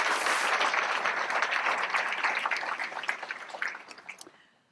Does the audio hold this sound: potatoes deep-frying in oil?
no